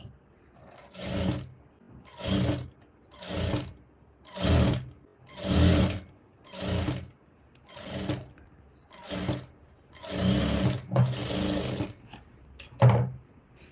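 A sewing machine stitches a blouse in about a dozen short, even bursts of rapid mechanical whirring, each separated by a brief pause, close by with no talking.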